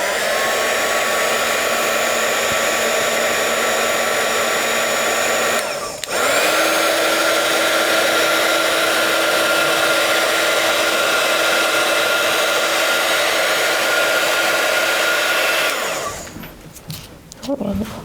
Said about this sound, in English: I'm just using our heat tool. It has a dual heat, so you can have it on a low heat or a high heat.